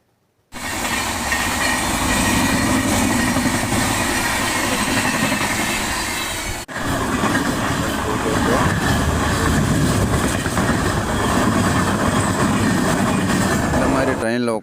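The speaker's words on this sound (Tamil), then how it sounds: "ஸோ இப்போ அந்த ட்ரெயின் வந்த உடனே நம்ம ட்ரெயின் கிளம்பிடுச்சு." A passenger train departs and runs on, heard from inside near the open doorway: loud, continuous rumbling and wheel clatter for the whole stretch, with a brief dip midway and no voices.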